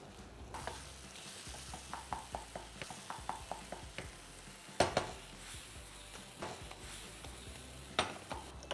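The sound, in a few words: brinjal cooking in a pan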